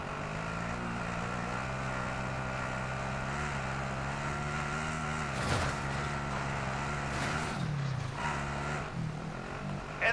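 Vehicle engine droning steadily in a solo battle royale match, a continuous motor hum with shifting pitch and a few louder bumps, no talk.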